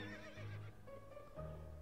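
A horse neighs in the To the Moon video game, with a whinny that rises and falls in pitch and carries through a low, steady game backdrop.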